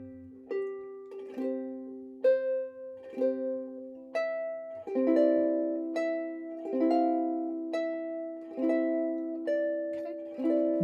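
Plucked ukulele picking out a gentle melody of "I'll Fly Away" over chords, notes ringing and decaying one after another, alone at moderate volume.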